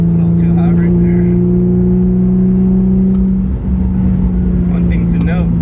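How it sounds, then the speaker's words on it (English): Porsche 911 engine drones steadily while driving, a loud continuous low hum heard from inside the car with a slight pitch shift midway and brief faint sounds over it. "Car sounds amazing."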